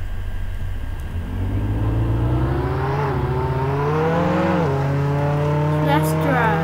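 A video-game car engine in Roblox Jailbreak hums loud and steady as the car reverses, its pitch rising and dipping with the throttle and staying close throughout.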